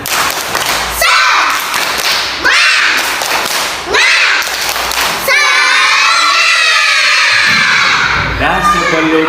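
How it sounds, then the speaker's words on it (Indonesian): A classroom of students performs a rhythmic spirit clapping chant, with sharp bursts of clapping in a pattern, then everyone shouting together in a loud, close group cheer. "Mari kita tepuk semangat dulu. Ayo tepuk semangat."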